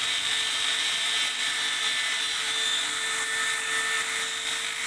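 A power drill buffs the inside of a car tire to prepare it for a patch, giving a steady, high-pitched whine with a harsh grinding edge that runs continuously and close up.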